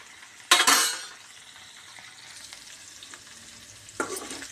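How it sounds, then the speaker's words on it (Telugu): Okra frying in oil in a pan, a constant soft sizzle broken by two sharp bursts of stirring and scraping, one near the start and one near the end, close by and with no voices. "ఇలా వేగాలి ఇలా వేగినాక తీసేసుకోవాలి"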